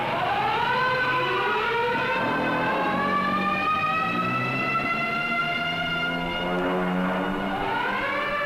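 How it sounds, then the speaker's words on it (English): A civil defense warning siren wails continuously in a city during a Cold War nuclear attack drill, its pitch rising and falling in long sweeps, loud and steady with a layered, echoing quality and no voices. "the banshee wail of the siren echoes the warning"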